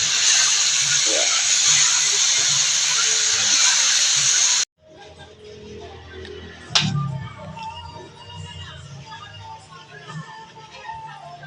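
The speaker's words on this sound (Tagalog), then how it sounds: "Ayan, piniprito pa siya." Loud, steady frying sizzle and hiss of sweet potato leaves for several seconds, then it cuts off and quieter kitchen clatter and a sharp clank follow, with faint voices.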